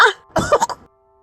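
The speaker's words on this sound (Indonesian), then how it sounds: "Batuk sekali lagi." A close, sharp cough followed by a short burst of two or three rough hacking coughs, then quiet.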